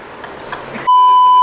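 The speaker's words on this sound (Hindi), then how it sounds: "मॉम का फोन आ रहा है" A mobile phone starts ringing with an incoming call, a loud steady electronic tone cutting in abruptly after a short stretch of indistinct background noise and continuing to the end.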